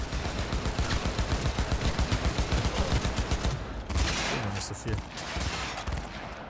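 Rapid automatic weapon fire in the video game Cyberpunk 2077, a loud sustained burst of evenly spaced shots, then a heavier blast and scattered impacts; someone briefly speaks German.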